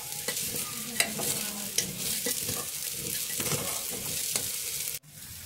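Dalia is stirred in a pan with cumin, black pepper and turmeric, giving a close, soft sizzle and repeated scraping, clinking strokes of a spoon in an uneven rhythm, with no voices.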